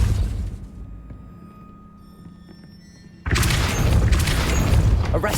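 In Hogwarts Legacy, a Depulso spell sets off a sudden loud burst that follows a low rumbling, quieter stretch, then sustains a dense, roaring blast of noise for the remaining seconds.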